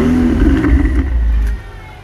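A Ferrari 488 Spider with a 3.9-litre V8 revs loudly nearby in a short rising burst, then settles back to a lower idle rumble.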